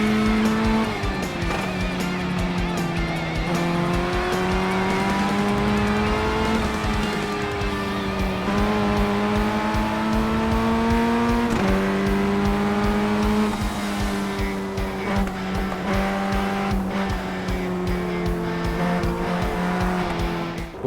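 Ray FF1600 race car in iRacing at Winton Motor Raceway, its engine droning loud and steady throughout, pitch climbing through gears with brief dips at shifts, tire squeal mixed in, no talk.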